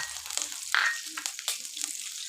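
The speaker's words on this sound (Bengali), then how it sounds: "মাছগুলো তুলে নেওয়ার পরে ওই তেলের মধ্যে আমি দিয়ে দিচ্ছি কালো জিরা আর কাঁচা লঙ্কা" Black cumin seeds and green chilies hitting hot mustard oil left from frying fish, giving a close, crackling sizzle with brief spattering bursts over a steady hiss.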